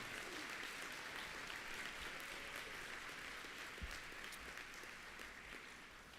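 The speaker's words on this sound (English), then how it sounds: "let's give our support systems a huge round of applause for their support" A commencement crowd at CT State Three Rivers claps in a sustained, fairly distant round of applause that fades slightly toward the end, with no voices standing out.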